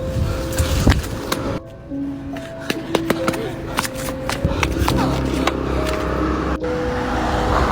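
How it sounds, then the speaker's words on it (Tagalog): A car approaches along a road, its low engine rumble steady beneath a busy clutter of clicks, clatters and short tonal effects. "May paparating na sasakyan!"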